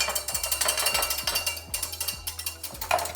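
Mustard salad dressing whisked briskly in a bowl, a quiet, rapid, regular metallic clicking and scraping repeated about three times a second.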